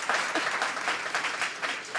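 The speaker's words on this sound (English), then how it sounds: "Give a big round of applause." A studio audience gives a guest a short burst of applause, many hands clapping close and lively for about two seconds.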